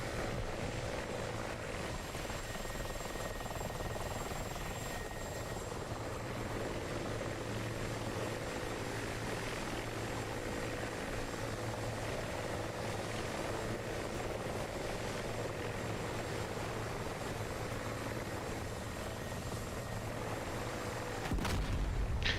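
Steady rotor and engine drone of an Mi-24 helicopter in a combat video game, a loud continuous roar holding for over twenty seconds, with a sharp impact burst near the end and no voices.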